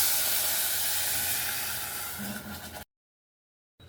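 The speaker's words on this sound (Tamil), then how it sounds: "பால்லையே வேக வச்சுக்கப்புறேன் ரெண்டு டம்ளர் பால்" Two tumblers of milk poured into a pan of ghee-roasted semolina for rava payasam, a loud steady hiss and sizzle that slowly fades over a few seconds, then silence.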